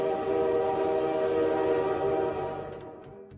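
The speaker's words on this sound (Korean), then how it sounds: "어느 날 간디가 기차를 탔는데" A train horn blares continuously and loudly over the rumble of a moving train, holding steady before fading toward the end, with no voices present.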